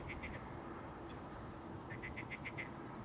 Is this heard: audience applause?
no